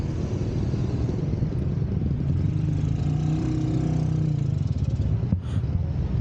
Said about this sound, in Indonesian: Ini Bang Ismail naik motornya kayak pembalap, dia berani ngambil tengah gini